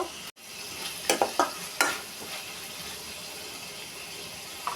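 Chopped tomato and onion greens are stir-fried with fried onion and garlic for a pabda fish bhuna, with a continuous soft sizzle and a few distinct spatula knocks against the pan, fairly quiet and close.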